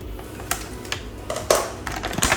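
A few sharp snips and plastic crinkles as a toy dinosaur figure is cut loose from the ties holding it to its box, close up, with short pauses between the clicks.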